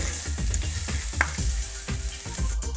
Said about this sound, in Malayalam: ഇനി നമുക്ക് ഇത് വഴറ്റി കൊടുക്കാം. പെട്ടെന്ന് വഴന്ന് കിട്ടാൻ വേണ്ടി ഒരു അല്പം ഉപ്പൂടെ ചേർത്ത് വഴറ്റിയെടുക്കാം